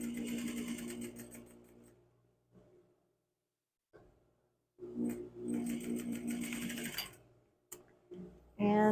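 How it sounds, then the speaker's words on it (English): A sewing machine top stitches along a shirt collar being repaired, whirring close in two steady runs separated by a pause, then a short final burst. "then I'm again top stitching along here"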